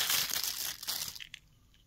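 Plastic packet crinkling as it is handled among the accessories of a Sony WM-EX511 cassette Walkman, a close, faint rustle of crackles that fades out after about a second.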